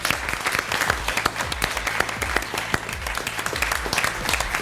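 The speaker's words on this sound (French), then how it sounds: "Merci de l'applaudir." A studio audience applauds an improv theatre performer on a French TV show, with dense, steady clapping throughout, fairly close and even, with no clear voices over it.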